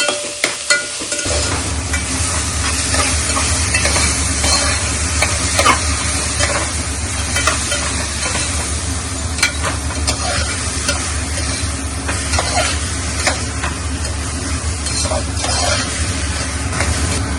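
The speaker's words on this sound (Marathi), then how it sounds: "आपण ह्याला थोडं अजून फ्राय करू" Onions fry and get stirred in a pan for a rustic Maharashtrian gavran chicken curry. A dense, steady sizzle carries through with scraping stirs and small crackles, loud and close throughout.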